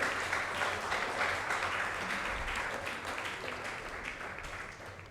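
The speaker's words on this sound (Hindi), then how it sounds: "प्लीज जोरदार तालियां हमारे सर के लिए।" Audience at an awards event in India breaking into sustained applause, a thick, even roar of many hands clapping throughout, slowly easing off toward the end with no voices over it.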